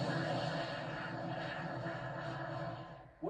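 Electra's Ultra Short, a short-takeoff aircraft, gives a steady, close engine drone with a sustained tonal hum that holds throughout before a brief shift at the end.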